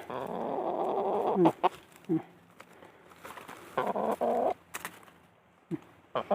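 Laying hens cluck and chatter nearby in short bursts, mixed with intermittent talking and a few sharp knocks.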